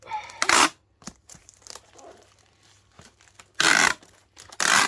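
Packing tape is pulled off the roll while a parcel is wrapped, in loud ripping bursts, a short one early and two longer ones near the end, separated by quiet crinkling and handling noises.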